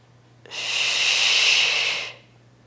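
One long, steady, airy exhale, close and loud, lasting about a second and a half, from someone holding a Pilates bridge during an intermediate booty band workout.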